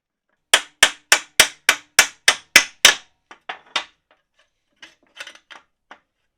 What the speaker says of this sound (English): So I just had to keep hammering away at it.